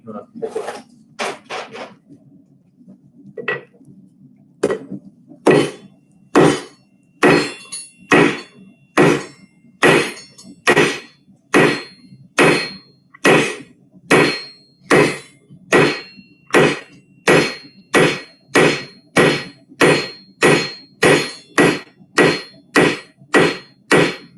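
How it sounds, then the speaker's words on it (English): A hammer strikes hot metal on an anvil while a leaf is forged, starting with a few scattered ringing blows and then settling into a long, loud, even run of about twenty-five rhythmic clangs. "I get to draw it out and hit it pretty hard and see this thing actually develop"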